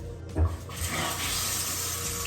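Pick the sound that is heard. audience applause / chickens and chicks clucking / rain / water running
water running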